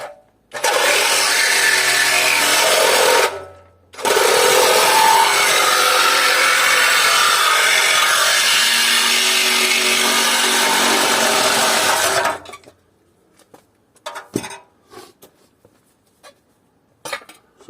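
A power tool grinds and saws loudly through a scrap air conditioner unit during disassembly, in two long continuous bursts separated by a short pause. Sparse clanks and knocks of metal being handled follow as the cutting stops.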